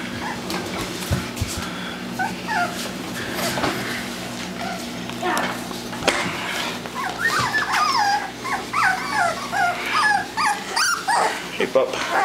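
A litter puppy whimpers and gives small growls and yips near the listener, with people talking over and around the sounds.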